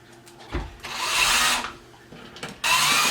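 A power drill drives screws into the casters of a kitchen island on wheels, with two loud whirring bursts separated by brief handling noises.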